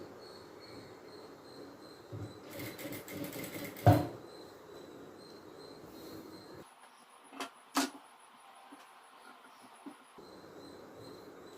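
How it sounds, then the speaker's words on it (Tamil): An electric sewing machine stitches chudidhar collar cloth with a steady whirring hum, broken by a short burst of rapid clatter. The motor stops partway through, leaving a few isolated knocks, then the hum starts again near the end. "இதை வந்து தூக்கி வச்சு தையல் போடுங்க"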